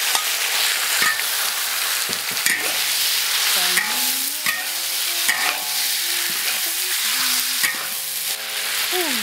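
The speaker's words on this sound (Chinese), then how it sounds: "来爆炒。" Chili peppers, fermented black beans and garlic are stir-fried in oil in a wok, giving a loud continuous sizzle with scraping stirs and clanks of the spatula, close by and without talk.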